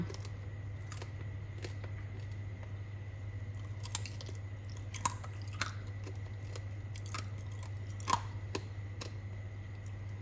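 Crunchy tanghulu, candied fruit in a hard clear sugar shell, being bitten and chewed: scattered crisp crunches close to the mic over a steady low hum, with no talking.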